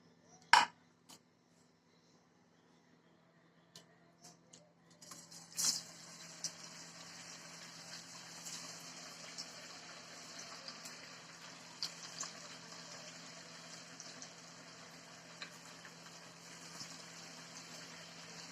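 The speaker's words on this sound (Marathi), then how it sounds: "आपल्याला आता वडे तळून घ्यायचे" Upvas meduvada, fasting vadas, fry in hot oil in a wide pan over low flame, a steady faint sizzle settling in after a few sharp clinks of utensils at the start.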